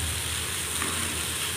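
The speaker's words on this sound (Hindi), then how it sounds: "ये दाल को हम सुनहरा होने तक भूनेंगे।" Chana dal fries in hot oil as a tempering for instant rava uttapam, giving a steady, close, continuous sizzle with no talking over it.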